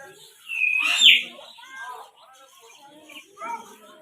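A myna bird at a zoo mimics human speech, its squawky, speech-like calls and a sharp whistle rising above the chatter of nearby visitors who talk throughout.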